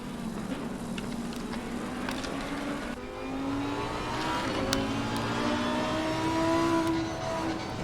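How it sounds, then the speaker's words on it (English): A Lamborghini race car in the Assetto Corsa Competizione video game at Bathurst, its engine droning and rising in pitch with sharp crackles and pops, other cars whirring nearby, loud and continuous without voices. "Hearing that nice crackling sound out of the engine of that Lamborghini."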